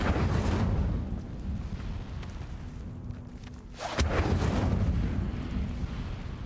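An Incendio fire spell is cast in a video game, with a roaring burst of flame and rumble, a brief dip, then a sharp crack and a second surging whoosh of fire.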